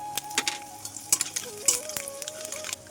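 Fenugreek, nigella seeds and dried chilies dropped into hot oil, a close crackling sizzle with quick sharp pops and spatters over a few seconds, with light stirring and no talking.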